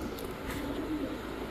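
Pigeons coo softly at a Bangladeshi pigeon seller's stall where racer and high-flyer breeds are sold, a low steady murmur of cooing close by under background hum, with no talk.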